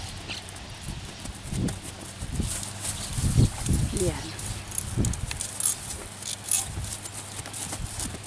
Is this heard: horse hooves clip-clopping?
yes